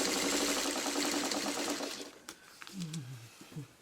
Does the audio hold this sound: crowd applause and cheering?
no